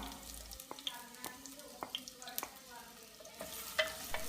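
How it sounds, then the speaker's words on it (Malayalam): Chopped onions go into hot coconut oil with ghee, giving a soft, steady sizzle at close range, punctuated by several sharp clicks and scrapes of a spoon against the pan, with no talking. "വെളിച്ചെണ്ണ ചൂടായാൽ അതിലേക്ക് അരിഞ്ഞു വെച്ചിട്ടുള്ള സവാള ചേർത്ത് കൊടുക്കാം."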